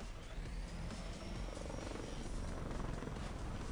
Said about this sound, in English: If there's a helicopter involved, you know I really don't want to be a part of it.